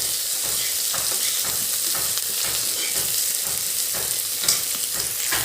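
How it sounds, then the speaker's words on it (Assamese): Chopped onions frying in hot oil with panch phoron and bay leaves, a steady close sizzle with periodic scraping stirs of a spatula against the pan. "এতিয়া ইয়াত দিলোঁ পিঁয়াজখিনি ভালদৰে ফ্ৰাই কৰি ল'ম"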